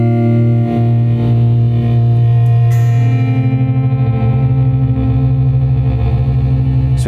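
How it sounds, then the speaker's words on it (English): An electric guitar plays through an Old Blood Noise Dark Star reverb pedal on its crush setting, producing a loud, sustained, distorted drone with shimmering, pulsing reverb texture that swells without a break, heard alone with no voice. "We've got the Old Blood Noise Dark Star, and in this case we've got it set to crush,"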